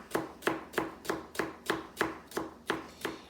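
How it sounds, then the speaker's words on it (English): A knife thinly slicing rolled-up fresh basil leaves on a cutting board, about eleven crisp, evenly spaced chops in quick steady rhythm, close and alone. "and then you take your knife and you just thinly slice it"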